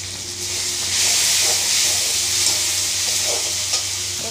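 Cumin seeds sizzle in hot oil for a chana dal, making a loud, steady hiss that swells after the first half-second, with faint stirring taps underneath.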